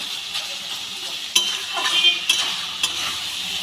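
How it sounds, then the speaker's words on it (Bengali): A spatula stirs a thick banana flower and potato curry with prawns in a pan, giving soft scraping and gentle sizzling with a few sharper clinks of metal against the pan. "খুন্তি দিয়ে একটু ঘেটে দেবো তাহলে একটু মাখা মাখা হবে"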